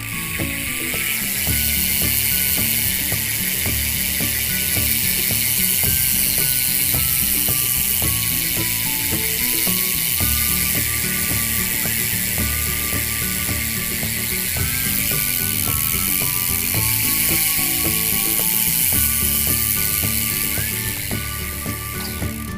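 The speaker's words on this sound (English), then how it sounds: "We're gonna do a hub sound." A bicycle's rear hub freewheel ratchets as the wheel spins, rapid, loud, close metallic clicking that runs continuously with slight shifts in speed, no voices.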